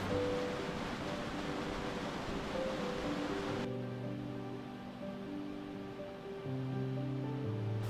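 A mountain torrent on the Plateau des Glières rushes beneath a footbridge, a steady, broad roar of water that continues throughout and shifts in tone partway through, with no voices.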